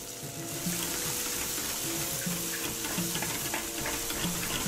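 Onions fry gently in a pan over low heat for a spiced keema curry, a soft steady sizzle with light stirring and faint clinks, no voices.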